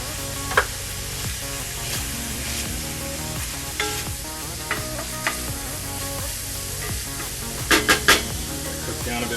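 Garlic sizzles steadily in a hot pan aboard a floating house, a continuous close frying hiss broken by a few scraping stirs and clicks.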